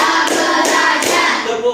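A class of students claps hands together in a classroom, a loud, dense burst of clapping with a few stronger accents through a short stretch, no voices over it.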